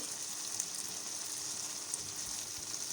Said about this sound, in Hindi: इसे अच्छी तरह से फ्राई कर लेंगे।